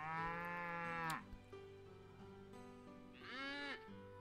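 Two cartoonish cow moos from the farming game Story of Seasons: Pioneers of Olive Town, a long drawn-out call followed by a shorter one, heard clearly over a soft musical background.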